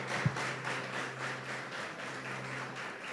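A church congregation clapping along in steady rhythmic beats, moderately distant and even, with a sustained low hum underneath and no talking.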